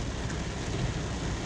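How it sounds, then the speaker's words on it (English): Heavy rain roars in a dense, steady hiss with a low rumble underneath, a storm downpour over flooded streets in Jamaica. "I guess the main part of the storm is passing over Jamaica now."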